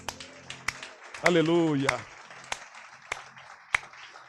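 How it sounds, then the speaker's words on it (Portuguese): Church congregation at a worship service clapping in sparse, separate sharp claps, with a voice shouting in praise partway through. "Você pode aplaudir ao Senhor Jesus?"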